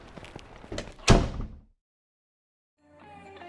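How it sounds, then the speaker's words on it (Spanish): A heavy house door closes behind people coming inside, with rustling and footsteps building to one loud thudding slam that dies into silence before faint music comes in. "El criado Austin, que parecía una estatua de madera, cerró la puerta detrás de nosotros."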